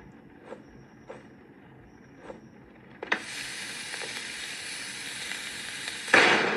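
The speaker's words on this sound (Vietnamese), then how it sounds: "nổ luôn cả máy làm bánh anh em ơi" A cake-making machine blows up in a Roblox game: a sudden loud burst at about three seconds gives way to a sustained hissing, crackling roar, with a second sharp blast near the end.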